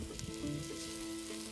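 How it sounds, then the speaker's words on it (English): Squeezed tomato cooks down in a pot for seafood stew, a faint, steady sizzle and bubbling heard briefly and close, with no voices. "We're gonna put a little squeezed tomato in, and then just cook that down a little bit."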